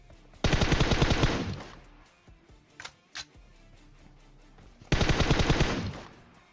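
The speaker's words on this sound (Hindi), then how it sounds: "मेरे ख्याल से M16 पटका रहा है।" M16 rifle fire in the PUBG Mobile video game comes as two rapid, loud automatic bursts, each lasting over a second. A couple of sharp single clicks fall between them, and nobody speaks.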